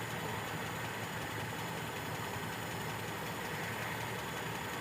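Toyota Kijang gasoline engine idling steadily at high revs while its carburetor is being adjusted, a constant close hum and rattle with no breaks.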